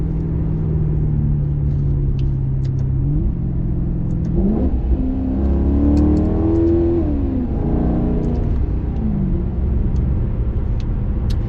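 A Maserati engine idles with a low, steady hum, then revs twice, the pitch rising and falling each time, close and loud with a deep rumble throughout.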